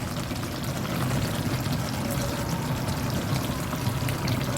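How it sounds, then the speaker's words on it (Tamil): Soaked and dissolved tamarind water pours steadily into a cooking pot for a rice-and-dal dish, a continuous close, fairly loud liquid splashing and rushing that holds without a break, with no talking over it. "அதை கரைச்சி வச்சுருக்கேன் பாருங்கள் அதை ஊற்றிக்கிறேன்"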